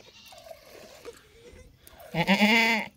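A large goat bleats during milking, one loud, close, wavering cry near the end after quieter rustling and handling sounds.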